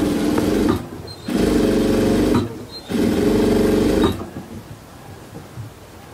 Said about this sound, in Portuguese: Como o pezinho de franzir já estava aqui, vamos franzir essa saia.